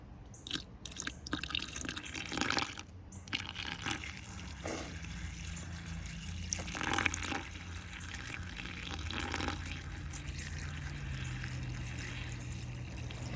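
JADAM wetting agent liquid is poured slowly into a container, giving faint, uneven trickling and splashing with small knocks and handling noises throughout.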